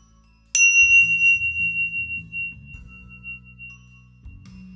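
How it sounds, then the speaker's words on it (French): A single strike of heavy engraved Tibetan tingsha chimes gives a bright, piercing ring that sustains and slowly decays over several seconds, above a soft, murmuring low background. "Puis elles teintent très longtemps. Donc ce sont des vrais Tingsha."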